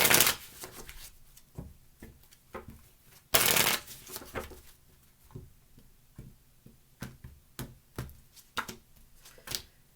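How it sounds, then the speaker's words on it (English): Tarot cards shuffled by hand in a rapid series of crisp riffles and taps, one loud burst early on, then steady repeated snaps at close range with no talking. "2 more shuffles."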